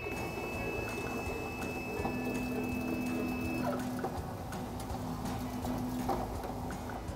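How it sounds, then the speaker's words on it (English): An embroidery machine traces a cutwork napkin design with a steady mechanical whir and a rapid, even ticking of stitches, continuous and close with no speech. "We're gonna trace the design."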